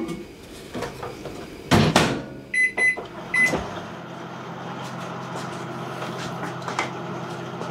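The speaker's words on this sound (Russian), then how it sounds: "Его нужно немного в микроволновке погреть." A microwave oven running while food heats, a steady low hum throughout with door clunks and a few brief beeps early on, plus some faint background noise.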